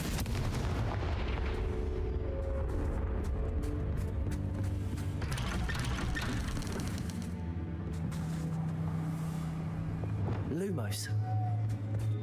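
Repeated magical spell blasts from Bombarda and Confringo in Hogwarts Legacy on PC boom and crackle in a dense, continuous barrage, with a voice calling out over the explosions throughout.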